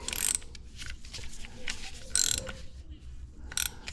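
A torque wrench ratchets while tightening a brake caliper bolt during front brake pad replacement on a 2016 Toyota Highlander Limited, quiet clicking bursts in short irregular strokes, up close.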